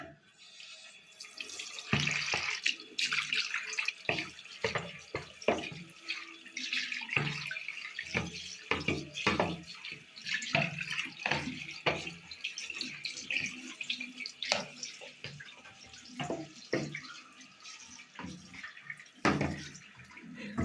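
Water flushing and splashing through a home heating radiator panel during cleaning with a reverse pump, an irregular gushing, spattering flow with drips and surges, close and fairly loud, no one talking.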